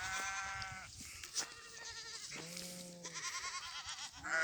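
A herd of long-horned goats two to three years old bleats in the open, several overlapping calls near and far, with no talk.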